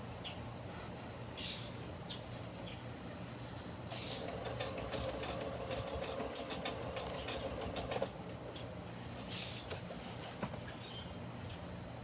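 A sewing machine stitches an outdoor swing seat cushion, a continuous fast mechanical whir held at steady speed, faint and close with quiet background noise.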